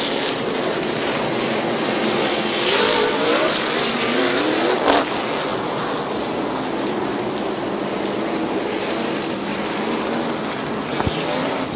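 Late model race cars roar off at the start of a 50-lap feature at Midvale Speedway's 2019 fall classic, a loud, continuous engine drone with a rising pass swelling and fading across the field.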